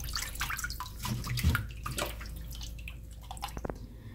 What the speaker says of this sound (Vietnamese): thì bây giờ các bạn sẽ rửa lại thật là sạch.